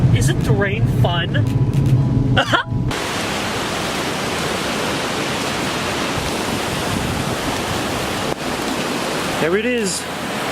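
Heavy storm rain heard from inside a car, a loud broadband roar of water pouring and drumming that fills the whole stretch, with brief excited voices at the start and again near the end.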